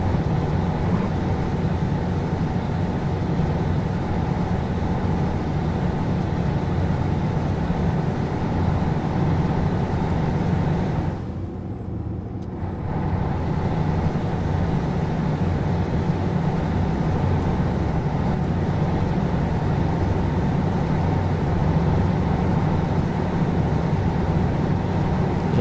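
A Scania 124G truck hauling a container in twelfth gear on the road down to Santos, Euro Truck Simulator 2, with the engine droning steadily and loud throughout, briefly dipping before resuming its even roar.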